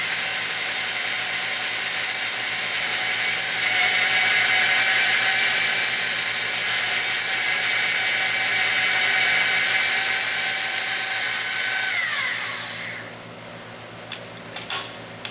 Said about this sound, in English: You've now completed both sides of the tubing and squaring it and getting a nice finish on the inside, ready for your orbital welding machine.